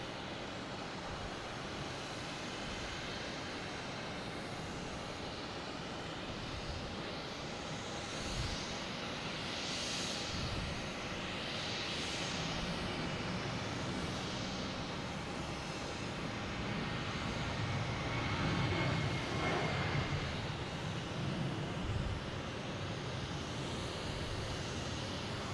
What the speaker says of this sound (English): we have United taking off, heading to Chicago, flight 366